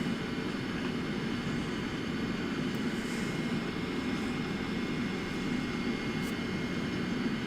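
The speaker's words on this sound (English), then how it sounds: "This is a very, very, very derated takeoff." In the MSFS 2024 flight simulator, an airliner makes a heavily derated takeoff: a steady, broad engine roar with a constant rumble that neither rises nor fades, with no talk.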